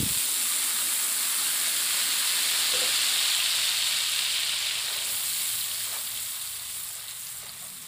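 Chili frying in fresh cooking oil in a home kitchen, a steady, close sizzle and hiss that runs unbroken and slowly fades toward the end.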